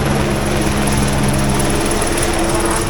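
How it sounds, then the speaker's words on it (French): A helicopter passing overhead near the Le Mans circuit, a steady loud rotor drone with rhythmic high chopping that holds evenly for a few seconds. "Hélicoptère qui repasse."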